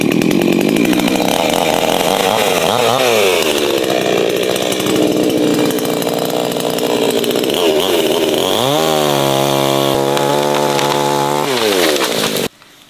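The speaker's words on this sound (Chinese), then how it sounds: "这个锯子都被夹掉，夹住" A chainsaw cuts tree branches and gets pinched in the wood. Its loud, steady engine drone fills the clip, climbs into a high rev near the end, then cuts off abruptly.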